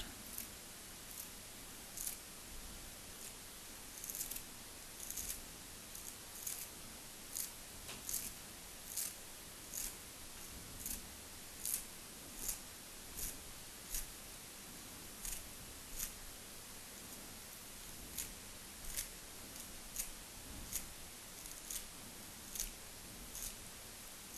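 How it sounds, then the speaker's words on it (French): Coriander is cut into small pieces with steady, evenly spaced snips and chops, repeating about once a second at a faint level over a quiet background. "On découpe en petits morceaux la coriandre."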